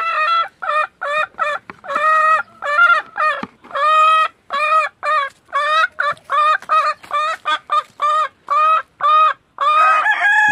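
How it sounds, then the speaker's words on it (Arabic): Hen clucking loudly and repeatedly before laying an egg, a close run of harmonic clucks and cackles in steady bursts with short pauses, alone without talk. "الدجاجة كتكون ملي كتعمل هاد الصوت هذا كتكون خصها تبيض"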